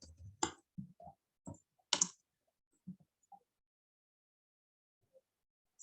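Mouse clicks in MYOB accounting software, several sharp isolated clicks spaced irregularly over a quiet background with no talking.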